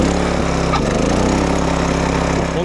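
A wing mower's engine used for grass cutting starts and settles into a loud, steady running drone close by, with no voices.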